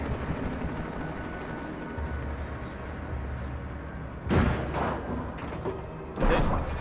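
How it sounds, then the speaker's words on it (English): A helicopter brought down by birds in the video game Alan Wake: a steady mechanical rotor drone followed by two heavy thudding impacts near the end, fairly loud and close. "Did the birds just take down a fucking helicopter?"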